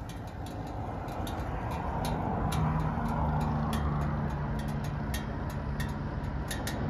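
A Suzuki GD110 motorcycle engine runs steadily at idle outdoors, a continuous low rumble with a faint hum and steady level throughout, no talking over it.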